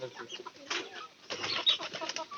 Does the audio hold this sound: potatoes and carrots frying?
no